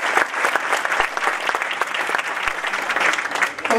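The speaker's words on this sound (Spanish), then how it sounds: "Un aplauso para ella." An audience at a political candidacy presentation for Cándida Tercero breaks into loud, dense, sustained clapping, close and continuous for several seconds with faint crowd murmur.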